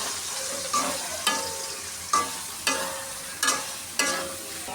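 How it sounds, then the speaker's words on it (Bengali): Leafy greens fry in oil with garlic in a pan and are stirred with a utensil, giving a steady sizzle with sharp scraping clicks roughly every second, close and clear with no talking. "এখন শাকটা ভালো করে নেড়ে চেড়ে নামিয়ে নেব।"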